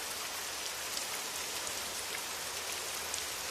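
Rain falls steadily during a night train journey through Sweden, a soft, even hiss of drops pattering on a surface, quiet and continuous with no voices.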